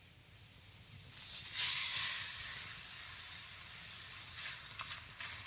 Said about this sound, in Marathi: दुईकडे कापड धरून असं तव्यात टाकायचं धपाट